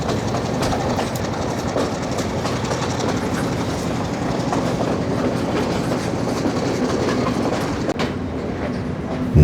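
A passenger train rolls along the Sri Lankan railway approaching the Nine Arch Bridge, with a steady, loud clickety-clack of wheels and a constant rumble of carriages heard close from on board, with no talk, continuing throughout.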